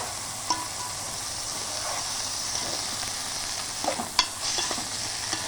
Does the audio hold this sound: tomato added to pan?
yes